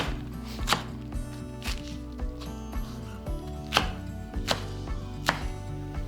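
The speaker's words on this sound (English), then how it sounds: "Start by cutting the napa cabbage into bite-sized pieces." A knife chops napa cabbage into bite-sized pieces on a cutting board, crisp sharp strikes landing roughly every half second, close and clear over a steady low background hum, with no voices.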